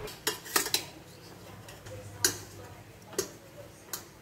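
Light clinks and taps of utensils against a dish as cooked chicken is moved onto a plate, scattered and irregular, close and fairly quiet.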